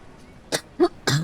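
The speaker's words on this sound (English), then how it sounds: "I am so sorry for coughing in your ear." Three short, sharp coughs close to the microphone, spaced unevenly over about a second, with no talking around them.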